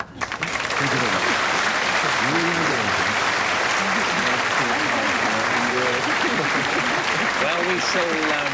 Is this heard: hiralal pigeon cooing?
no